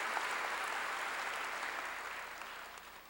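Church congregation applauding during a sermon, a dense, even wash of many hands clapping at moderate distance, sustained for the whole stretch and slowly tapering, with no voices over it.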